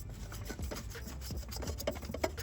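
A new oil filter housing on a BMW X5/X6/X7 G-Series with a B58 engine is being tightened by hand, making soft, close scraping and rubbing sounds over a couple of seconds.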